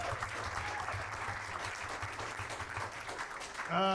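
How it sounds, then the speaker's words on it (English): A comedy club audience at a roast battle show keeps up a round of applause, fairly distant and even, before a voice cuts in at the end. "give him a round of applause"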